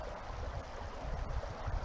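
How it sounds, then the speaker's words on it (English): A mountain river rushes in a steady broadband wash of flowing water, close and continuous, with no voices over it. "There's a beautiful river behind me."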